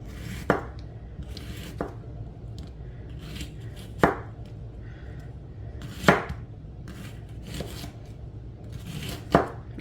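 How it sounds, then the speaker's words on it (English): A knife chops an onion on a cutting board in slow, separate strokes, each landing as a sharp thunk about every two seconds against a quiet kitchen background. "And chop up an onion."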